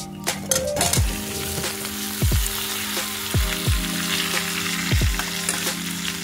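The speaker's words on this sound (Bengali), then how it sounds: "এবার আলুটাকে আমরা তেলের মধ্যে দিয়ে খানিকক্ষণ একটুখানি নাড়াচাড়া করে নেবো" Peeled boiled potatoes frying in hot oil with bay leaf and cumin tempering, a steady close sizzle broken by repeated scraping stirs of a spoon against the pan, with no talking.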